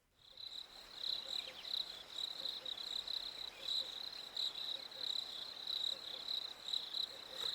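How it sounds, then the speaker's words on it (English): Rapid, continuous high-pitched cricket chirping in pulsing rhythm, steady and fairly faint against a soft noisy background, used as tinnitus relief sound. "it's the sounds of cricket, but different sounds from cricket"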